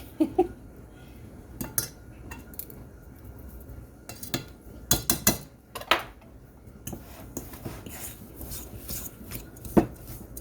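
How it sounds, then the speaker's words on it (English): Whisk rasping and tapping against a bowl as toffee bar batter is mixed with flour, bursts of brisk scraping strokes with pauses, close and fairly loud. "Okay, get this nice and mixed together. I don't want to see any white of the flour, okay? So we're going to keep whisking."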